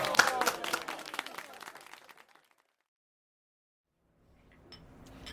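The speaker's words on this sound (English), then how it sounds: "So I think you should all give yourselves a big round of applause." Grey Gables staff applauding themselves in a radio drama, a short burst of clapping with voices mixed in that fades away within about two seconds, followed by silence and faint clinking.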